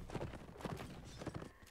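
Horse hooves clip-clop in a quick, regular gallop within the video game Legion during a capture-the-flag cavalry battle, faint and a little distant, with a brief whinny-like tone.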